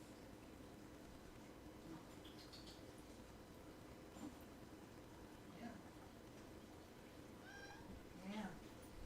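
A thirsty house cat, out of water, gives a few short meows, moderately faint, over a steady background hum, with the clearest cries near the end.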